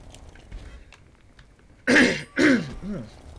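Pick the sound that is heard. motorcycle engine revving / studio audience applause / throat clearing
throat clearing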